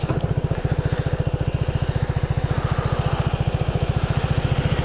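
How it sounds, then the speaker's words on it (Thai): A 2021 Keeway GT270 scooter engine idles nearby, a steady, even low thumping pulse that continues alone throughout. "โอเคไม่ดับเครื่องนะครับ ขออนุญาตไม่ดับ"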